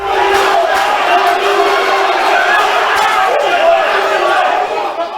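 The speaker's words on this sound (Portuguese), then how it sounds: "Torcedores da URT ficaram revoltados com o placar e vaiaram o time e a diretoria." Football supporters of the URT club in a stadium crowd jeer and boo their team after a bad result, a loud continuous wall of massed voices with rising shouts throughout.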